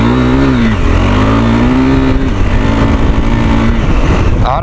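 A KTM 390 Adventure SW motorcycle engine revs loudly and continuously off-road, its pitch rising and dipping as the throttle changes, close and sustained.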